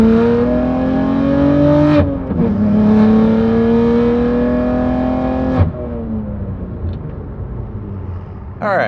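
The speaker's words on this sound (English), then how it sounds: "the ARM catted downpipes and the Valvetronic equal-length sport exhaust on my F80 M3" A BMW F80 M3 with ARM catted downpipes and a Valvetronic equal-length sport exhaust pulls hard through the gears, its engine note rising under load and breaking at each shift. It then settles to a lower cruising drone from inside the car.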